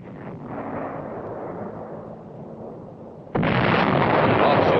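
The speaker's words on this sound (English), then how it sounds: "The sound of shells going over can be a mighty friendly sound." Korean War artillery shells fire and explode in a continuous heavy rumble that surges into a louder, sustained roar partway through, with no talk over it.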